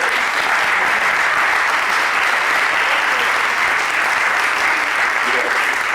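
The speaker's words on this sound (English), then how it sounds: "You can actually save your applause for the end" Live audience applause at a public radio conference show, a dense, continuous wash of clapping that stays loud and even throughout.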